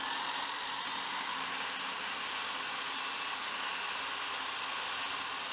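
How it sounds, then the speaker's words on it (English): A power drill bores out stripped brake rotor screws on a Honda Civic, a continuous high whirring hiss that holds steady and close throughout, with no voices. "I decided to drill"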